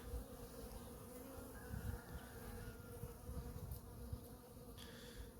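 Honey bees fly around their hives during a winter cleansing flight, making a continuous close buzzing drone with individual bees passing near, with no talk.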